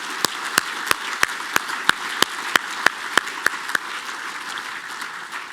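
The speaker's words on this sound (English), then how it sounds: "So big round of applause for the speakers." Conference audience applauding the speakers at a payments industry event, a broadband wash of clapping with a run of sharp, regularly spaced claps from a nearby person standing out on top, the close claps stopping before the crowd does.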